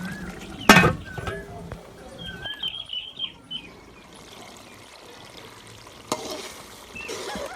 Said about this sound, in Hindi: मटरों के दाने जो है बहुत जल्दी फ्राई हो जाते हैं, इसलिए हल्की आग पर इनको फ्राई करेंगे